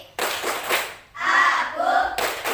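Children in a classroom clap their hands in a rhythmic clap game, a short run of sharp claps between stretches of group chanting.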